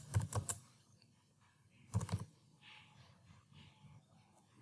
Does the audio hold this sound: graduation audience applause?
no